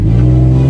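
A Nissan 350Z engine, once suspected faulty but actually held back by a clogged catalytic converter, gives a loud, close, steady droning roar at full throttle.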